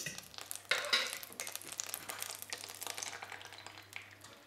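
Butter melting and starting to sizzle and crackle steadily in a hot frying pan for an onion omelette, loud and close, with a constant fizzing bed and no voices.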